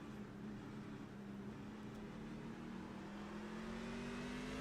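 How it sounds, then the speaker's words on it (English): A race car engine drones steadily, its pitch climbing gradually as it accelerates back up through the gears on a circuit, heard at a distance and fairly faint, without voices. "Nice squeeze on the throttle, getting back up through the gears."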